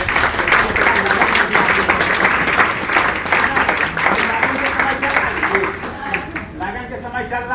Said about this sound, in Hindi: आप लोग के लिए एक जोरदार ताली फिर से होना चाहिए